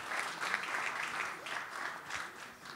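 Audience applause at a round-table session on aviation biofuels, a warm steady patter of many hands at moderate distance, fading slightly at the end.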